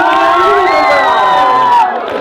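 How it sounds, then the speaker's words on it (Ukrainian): A crowd at a stage event for school teams cheers loudly, whoops and shouts rising together in a dense, continuous roar that fades slightly at the end. "Шалені аплодисменти"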